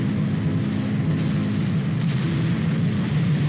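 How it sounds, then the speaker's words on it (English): Steady low rumbling booms of artillery fire in a retro video game, a continuous dense roar filling the whole stretch with no pauses and no talk. "What the heck have they got there? Artillery?"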